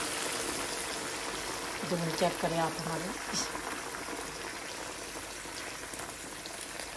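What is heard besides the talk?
boiled water poured into cooking pan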